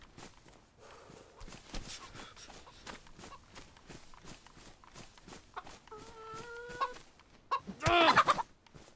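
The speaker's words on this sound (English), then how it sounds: "Hark, I hear a chicken." In DayZ, a chicken clucks in short bursts amid footsteps and quiet game ambience, ending in a louder flurry of squawks close by.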